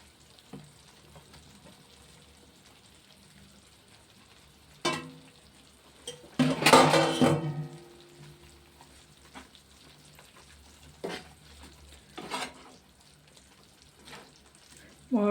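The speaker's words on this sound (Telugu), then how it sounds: "అందులోనే మామిడికాయ ముక్కలు వేసేస్తున్నాను అండి." Raw mango pieces hit a hot pan seasoned with rock salt, setting off a loud, crackling sizzle burst that settles into quieter intermittent frying and stirring sounds, with short sharp clatters scattered throughout.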